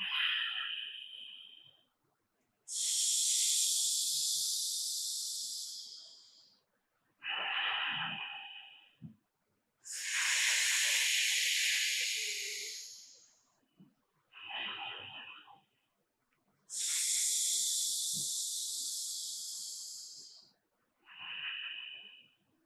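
Slow pranayama breathing, cooling air drawn in with a loud hiss and warm breath released more softly, repeated in long rhythmic cycles with near-silent gaps between them.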